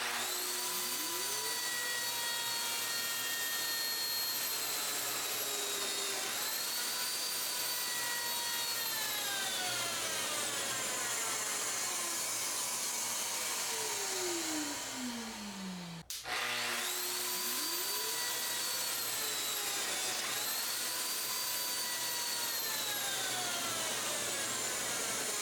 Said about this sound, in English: vacuum should turn on when I turn on the machine, and I'm using my Festool CT48 to collect the dust chips from this particular machine